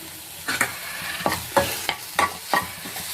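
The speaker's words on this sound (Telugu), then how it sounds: "జీలకర్ర పౌడర్, గరం మసాలా వేసుకొని ఫ్రై చేసుకున్నామండి." Ground cumin, garam masala and coriander powder frying with salt in a pan for pani puri filling, heard as a faint background sizzle broken by a series of sharp stirring scrapes about every half second.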